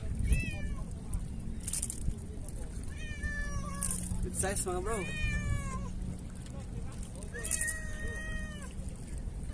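A cat meows several times, drawn-out and fairly close, while someone talks and laughs over it, during shore fishing in Salalah, Oman.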